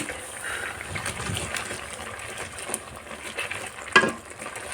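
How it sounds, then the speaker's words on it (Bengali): Leafy greens frying dry in a pan while being stirred at length, giving a soft continuous sizzle with scraping and shuffling from the spoon and a sharper clack near the end. "শাকটাকে অনেক সময় ধরে নাড়াচাড়া করলাম"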